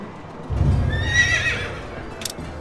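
A summoned horse in the video game Quinfall lets out a loud, close whinny with a rising, wavering neigh, followed by a brief clip-clop and rustle of hooves.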